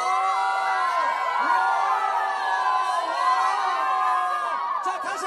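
Large crowd of fans cheering and screaming during a wave at an outdoor guerrilla concert, a sustained chorus of high-pitched shouts and whoops rising and falling across the whole span.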